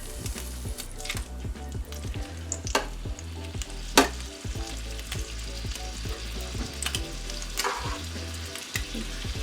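Meatballs fry in a pot with a constant close sizzle, with occasional soft knocks and scrapes of stirring and one sharper clack.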